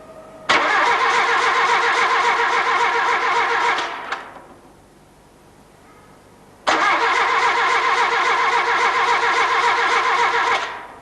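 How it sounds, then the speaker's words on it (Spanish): A car's starter motor cranks the engine in two long bursts during a workshop battery and starter test, each a steady, loud whirring churn lasting several seconds, separated by a brief quiet pause. "volveremos a darle un par de veces más al arranque"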